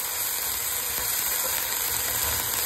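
Onion frying with ginger, garlic and green chilli paste for chicken yakhni pulao, a steady loud hiss of sizzling oil that holds unchanged throughout.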